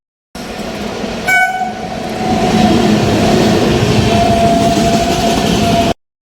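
A train passing close by on a railway line in Gujarat, with one brief horn blast near the start and a loud, steady rumble and rolling noise of the wagons building and holding to the end.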